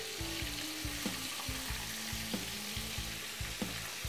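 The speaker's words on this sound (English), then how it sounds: "And that's the way the chicken looks inside when you fry." Chicken burger patties fry in a hot pan for a Caribbean chicken burger, giving a steady, dense sizzle with faint stirring bumps and soft background music underneath.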